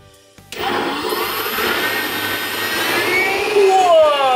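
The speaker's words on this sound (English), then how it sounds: "Yes, with a blender." A blender whirs on suddenly and runs loud and close as it mixes ice cream ingredients, its high motor whine holding steady and rising slightly near the end.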